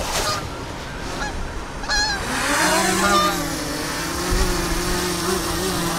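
Small consumer drone spinning up its propellers and lifting off outdoors at a yacht club in winter, a rising, steady buzzing whine that settles into a close, continuous hum.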